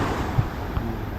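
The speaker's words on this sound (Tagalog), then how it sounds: "Lalaki ng alon." Big sea waves off Casiguran surge under gusty wind, a brief rough wash of surf with heavy wind buffeting on the microphone and no talk.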